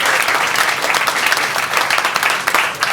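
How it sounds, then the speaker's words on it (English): Audience applause at a TAG Heuer press conference, a loud, dense wash of clapping from a crowd that stays sustained across the few seconds, with individual claps standing out. "So applause from David."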